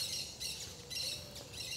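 A steady mix of birds chirps continuously in the morning at a zoo, with bright overlapping tweets that rise and fall in short bursts over faint background hiss.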